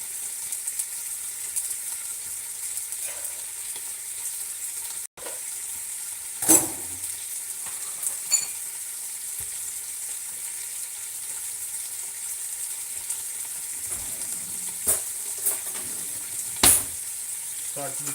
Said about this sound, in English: I'm going to cook the stir fry veggies on it.